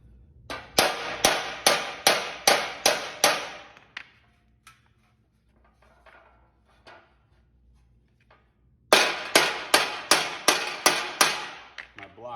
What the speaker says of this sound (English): My block is directly underneath where I'm hammering.